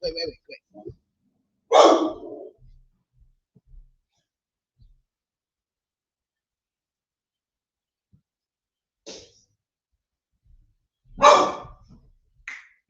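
A dog barks in a few short, separate bursts, loud and close, with long quiet gaps between them and faint speech-like sounds at the start.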